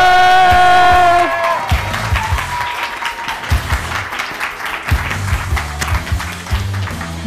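A crowd applauds at the close of a live event, dense and steady clapping that follows a fading sustained musical chord and carries on with scattered louder claps.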